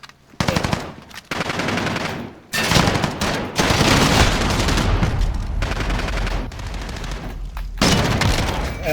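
Rapid automatic gunfire rattles in a shooter video game as a player aims for headshots, with loud sustained bursts separated by brief breaks.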